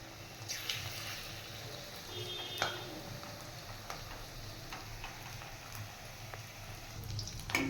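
Piyaji onion fritters frying in hot oil over low heat, giving a soft, quiet sizzle dotted with occasional small pops and ticks.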